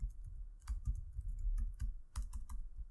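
Keys clatter on a computer keyboard as someone types code, with irregular bursts of quick clicks at close range and no talking.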